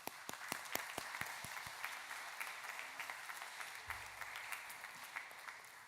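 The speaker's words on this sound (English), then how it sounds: "Can we just give them a round of applause, please?" Faint applause from an audience for a school choir at a music gala evening, with distinct individual claps standing out early and softening into a light, scattered patter.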